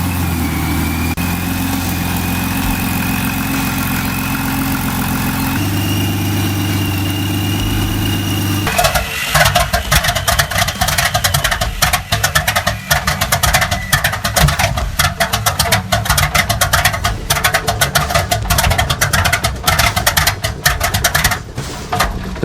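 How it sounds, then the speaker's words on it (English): A Fairchild Ranger inverted V12 aviation engine, rated around 550 horsepower, runs steadily with a loud droning hum that shifts into a harsher, rapidly clattering roar partway through, with no voices over it. "The Fairchild Ranger represents another engineering achievement, featuring an inverted radial V12 configuration optimized for aviation, delivering approximately 550 horsepower."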